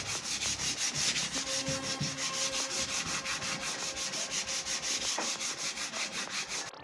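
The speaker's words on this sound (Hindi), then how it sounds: "ये देखिए 220 नंबर सैंडिंग पेपर है ये। इसको हल्के हल्के हाथों से सैंड कर देना है" Hand sanding of rosewood with 220 grit sandpaper, a steady rhythmic back-and-forth rasp of paper on wood, close and continuous, with no voices.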